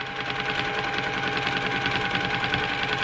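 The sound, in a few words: domestic sewing machine free motion quilting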